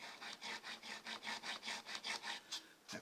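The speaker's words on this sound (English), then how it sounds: "So this is a bone nut, and it files just like bone, and it's coming down quite well." A file rasps down a bone guitar nut for a Telecaster-style electric guitar in about a dozen even, rhythmic strokes, close and fairly quiet, with a brief knock at the end.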